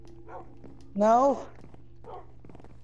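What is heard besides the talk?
dogs barking in Minecraft video game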